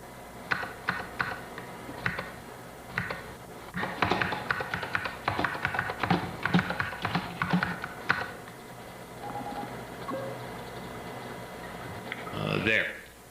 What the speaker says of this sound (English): Let me type a few commands.